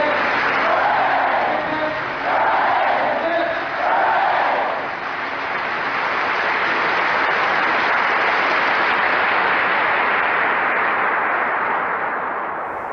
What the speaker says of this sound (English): This clapping, it goes on for another 2 minutes.